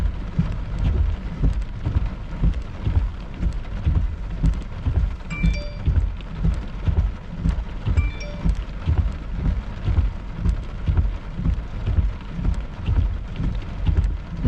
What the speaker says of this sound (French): on a eu une belle grosse averse